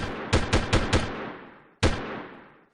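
Gunfire in the video game Delta Force: a quick burst of four loud shots, a pause, then one more sharp shot, each trailing off in a long echoing decay, with no voices.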